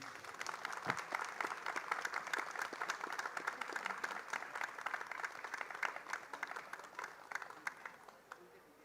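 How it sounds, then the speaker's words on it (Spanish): Audience applause at a book presentation at a book fair in Lima, many hands clapping quietly and a little distant, sustained for several seconds with faint crowd murmur beneath. "Un aplauso"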